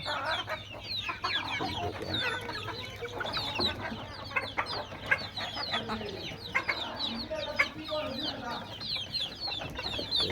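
Native chickens cluck steadily and chatter together close by on a farm, a continuous farmyard murmur with sharper calls popping out now and then.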